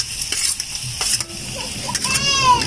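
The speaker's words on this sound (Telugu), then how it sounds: "బాగా ఆయిల్లో ఫ్రై చేసుకోవాలన్నమాట పచ్చిమిర్చి కొంచెం తీసుకోండి వేసేసుకొని" Green chillies frying in hot oil while being stirred, a steady crackling sizzle broken by scraping spatula strokes and a few sharp pops, close and fairly loud with no talking.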